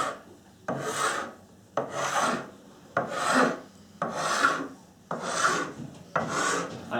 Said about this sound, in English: clean up this sharp edge with a fine-tooth file